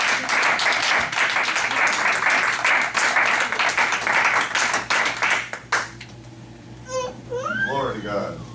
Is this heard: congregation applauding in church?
yes